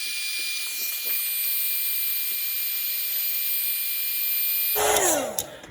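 Heat gun shrinking heat-shrink tubing over repaired alternator wiring on a 1999 Toyota 4Runner, a loud steady blowing hiss that holds for several seconds before shifting in tone and winding down.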